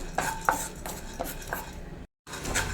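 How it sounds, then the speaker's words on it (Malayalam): A spatula scrapes and stirs dry sambar powder ingredients roasting in a pan over a low flame, giving steady clinks and scrapes with a few sharper knocks and one brief dropout. "ഫ്രൈ ആയി വരുന്ന വരെ ഇളക്കി കൊടുക്കണം"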